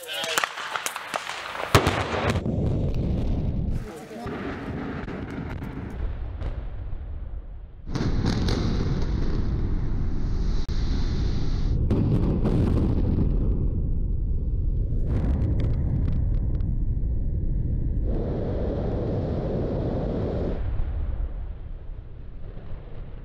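Explosive demolition of the Ferrybridge C power station: a heavy blast of cracks and booms opens the clip, then gives way to long, loud rumbling and roaring as the structures collapse, with broadband crashing that rises and falls.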